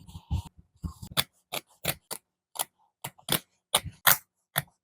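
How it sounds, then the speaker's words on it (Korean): Scissors cut handbag fabric along a drawn pattern line, making a series of sharp, close snipping crunches in an irregular rhythm against a quiet background. "선을 그려 잘라줍니다."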